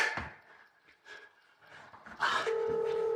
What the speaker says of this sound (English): Come on, Evie, pick up the phone, please